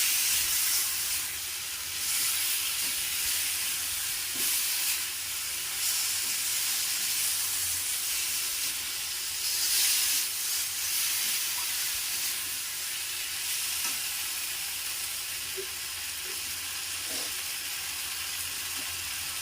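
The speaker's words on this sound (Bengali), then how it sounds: "যে আলুগুলো আমি ভেজে রেখেছিলাম, আলুগুলো দিয়ে মশলার সাথে আলুগুলোকে ভালো করে মিশিয়ে নিচ্ছি।" Previously fried potatoes mixed with spices in a pan for an egg and pointed gourd dish give a steady, even sizzling hiss, with a few faint knocks and no clear stirring strokes, and no talking.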